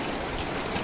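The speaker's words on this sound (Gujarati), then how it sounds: "વરસાદ જેવો આવવા માંડ્યો છે" Steady rain falling outdoors, a dense even hiss of drops on the ground and surfaces, continuous and moderately close with no voices.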